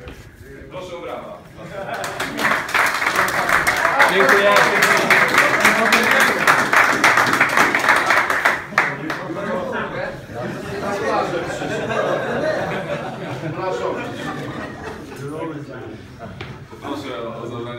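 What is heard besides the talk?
applause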